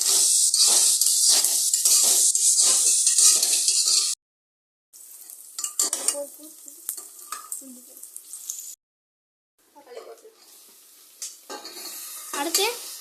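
Mint and spices being stir-fried in a pan for mushroom biryani, with a loud steady sizzle and stirring scrapes, then after brief gaps quieter clinks and scraping of a spoon against the pan.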